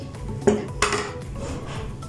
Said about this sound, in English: Now I'm gonna cut through it into 2 equal pieces.